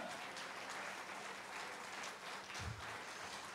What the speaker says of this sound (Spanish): Alguien da un aplauso a Jesucristo.